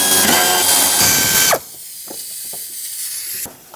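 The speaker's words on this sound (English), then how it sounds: "so I'm using my air ratchet" An air ratchet spins out 8mm fuel pump bolts on a 1997-2001 Lexus ES300, a loud, close, high mechanical whir for about a second and a half, then fainter clicks and rattles.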